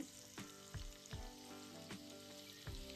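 Garlic, ginger and cumin paste frying in hot oil with asafoetida, a steady close sizzle punctuated by several sharp knocks of a spoon or ladle against the pan.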